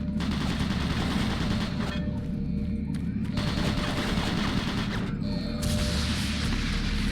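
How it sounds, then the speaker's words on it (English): Automated turret guns in Doom 3 fire in dense, sustained machine-gun bursts that run nearly unbroken for several seconds, loud and close, with a few brief dips in the barrage. "Warning. Automated turret guns online. Why are they only shooting at me?"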